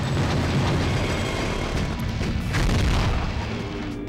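Rocket explosions in the PS2 video game Gungrave blast apart a group of enemies, a dense run of loud booming blasts and bursts rumbling continuously and up close with no talking.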